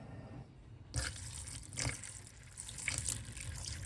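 Water running and splashing in a sink as oxtails are rinsed with white vinegar and water, several short bursts of trickling and sloshing over a quiet kitchen background.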